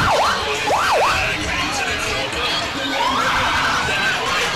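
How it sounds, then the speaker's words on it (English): Police sirens wailing at a parade's end at the Strawberry Festival, with rising and falling sweeps over a noisy crowd and talk. "you're going to hear a whole bunch of sirens that will signal the end of the parade"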